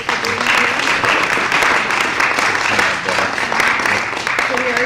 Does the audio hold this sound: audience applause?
yes